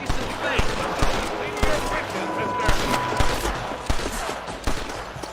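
Gunfire rings out in the Western video game Red Dead Redemption as a fusillade of sharp, irregular shots, some near and some farther off, with faint game voices mixed in.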